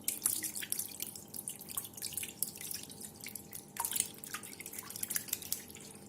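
Whey drips from cut cheese curds poured onto a cloth while making Kolot cheese, a soft, steady patter of fine drops falling close by, quiet and irregular, with no talking.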